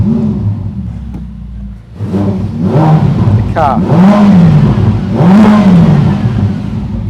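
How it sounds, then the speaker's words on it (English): A 2022 Ferrari F8 Spider's V8 engine starts with a whirring crank, catches and idles, then gives two rising-and-falling revs, loud and close, with someone speaking briefly early on. "I'm just going to start it up again."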